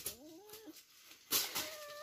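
A cat's drawn-out, wavering meows and yowls, heard close and fairly soft, in two short calls separated by a brief pause, with some light background noise.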